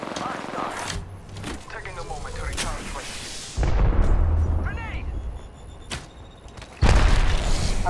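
Gunshots in an Apex Legends–style shooter game aimed at the character Caustic, loud cracks and booms in irregular bursts with louder volleys near the middle and end, while a player talks over them throughout.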